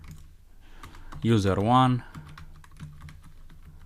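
Code being typed on a computer keyboard, with soft key clicks running under a voice that speaks briefly mid-clip.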